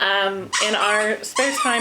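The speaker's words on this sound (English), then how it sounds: "that's my dog." A pet dog barks and whimpers in a new homeowners' house, high yelping sounds breaking in close by between stretches of a person talking.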